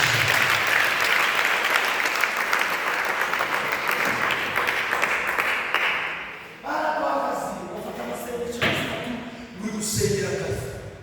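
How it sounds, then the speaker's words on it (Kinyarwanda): A church congregation claps and cheers loudly for several seconds during a service, the applause fading as a voice and music rise over it. "mukomere Imana amashyi"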